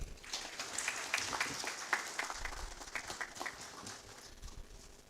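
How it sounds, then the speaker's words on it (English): A crowd applauds at an association's annual general meeting, a moderately distant, continuous clatter of clapping that swells and gradually thins out over about five seconds. "If it's my president you're clapping for"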